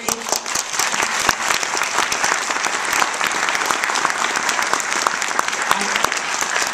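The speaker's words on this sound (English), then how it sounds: "I thought that was just going to be the faculty applauding" Steady, enthusiastic applause from the audience at a university president's investiture speech, many hands clapping at once without a break, with faint voices mixed in.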